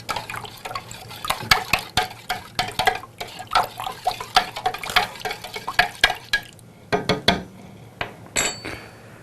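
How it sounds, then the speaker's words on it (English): Sausage cure being stirred into cool water in a mixing container, a quick uneven run of clinks and knocks with light sloshing that keeps going for several seconds, close and fairly loud with no voices. "mix the cure into the water for better distribution of the cure."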